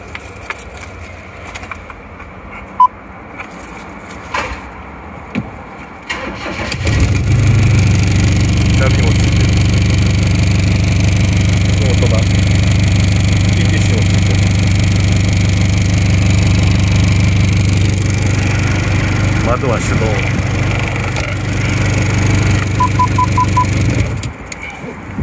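An Austin FX4S Plus London taxi cranks and fires, then settles into a steady, loud diesel idle that holds for most of the time before cutting off near the end, with a few faint clicks before the start.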